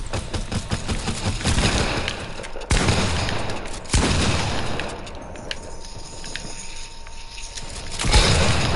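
Rapid video game gunfire in repeated bursts, with sharp loud onsets and a dense rattling fusillade running through, fairly close and prominent, with no clear speech over it.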